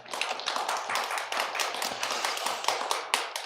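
Clapping from an audience at a health lecture in a hospital setting, fairly quiet with distinct individual claps in an uneven rhythm and a low steady hum underneath.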